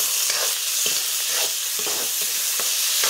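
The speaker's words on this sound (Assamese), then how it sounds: "জিৰাখিনি তেলত ফুটোতে মই এতিয়া বাদামখিনি এনেদৰে দি দিলোঁ বাদামখিনি বেছি ভাজিব নালাগে যিহেতু ফুটিব এতিয়া মই চাউলখিনি এনেদৰে ইয়াতে দি দিলোঁ" Rice stirred into hot oil with cumin seeds and peanuts, sizzling loudly and steadily with repeated scraping stir strokes close by, no voices, for a Nepali-style rice dish.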